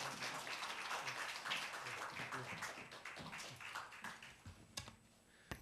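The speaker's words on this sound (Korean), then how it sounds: "뜨거운 박수로 맞이합니다" A church congregation claps to welcome a missionary to the pulpit, faint and uneven, with scattered sharp claps thinning out toward the end.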